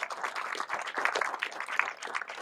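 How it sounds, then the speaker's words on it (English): Small group applauding at a city hall gathering in Saginaw, sparse uneven claps at moderate distance, fairly quiet. "go ahead and applaud there, Pat"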